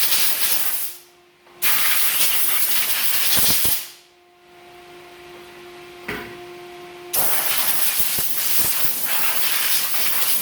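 A small workshop air compressor runs with a loud steady hiss of compressed air blowing off in several long bursts, broken by brief pauses and a few sharp clicks, with a faint tonal hum underneath.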